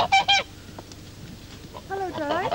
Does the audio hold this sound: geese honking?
yes